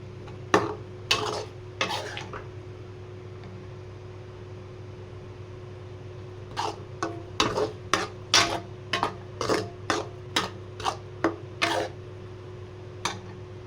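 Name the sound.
turkey berries frying in oil for thokku with chili powder, salt, asafoetida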